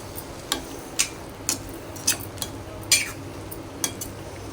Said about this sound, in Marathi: आता हे सर्व चांगलं मिक्स करून घ्यायचं।